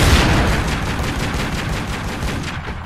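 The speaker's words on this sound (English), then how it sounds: "This guy's shooting the wall." Enemy gunfire in Tomb Raider: Legend, a rapid burst of automatic shots in a steady rhythm, loud and close, fading slightly at the end.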